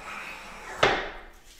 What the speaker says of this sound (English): I use a small brass planing hammer with a wood inset.